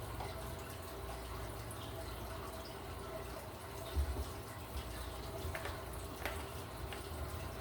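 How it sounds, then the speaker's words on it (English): Heavy cream poured into a bowl for a tres leches cake, a quiet, faint, steady trickle of liquid with a soft low hum in the background. "So let's pour some heavy cream."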